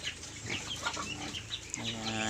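Pet domestic ducks on a farm at feeding time, quacking and chattering in overlapping bursts close by, with a short spoken word partway through.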